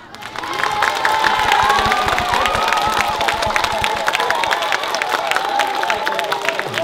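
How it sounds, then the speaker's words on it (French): Schoolchildren in a schoolyard applaud and cheer their headmistress and teachers, with loud, sustained clapping and high excited shouts and whoops from many young voices throughout, building quickly and staying dense. "on va pouvoir applaudir la directrice et les instituteurs et institutrices"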